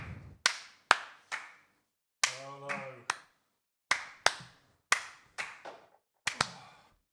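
Hands clapping to welcome a guest onto a talk show set: about a dozen separate sharp claps in an uneven rhythm, close and crisp with short decays, with a brief hum-like voice sound partway through.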